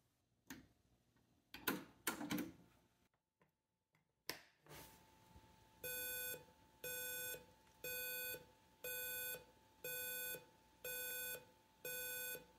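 Homemade relay computer clock signal recorded onto a blank cassette: after a few clicks and handling knocks, a steady series of seven evenly spaced electronic beep tones plays back, each about half a second long, clear and alone.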